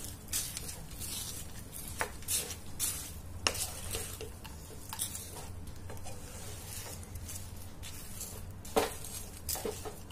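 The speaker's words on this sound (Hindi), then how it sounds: "इसे अच्छी तरीके से मिक्स कर लेंगे इस तरीके से" A spoon stirs and mixes a dates and dry fruit laddoo mixture in a hot pan, giving repeated soft scrapes and light clinks over a quiet sizzle, close and fairly faint.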